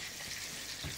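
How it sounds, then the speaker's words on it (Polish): Liver sizzles in a frying pan, making a steady, dense crackling hiss that continues without a break. "tutaj wątróbka zaczęła się już smażyć z jednej strony"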